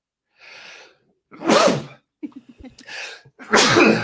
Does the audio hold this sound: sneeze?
yes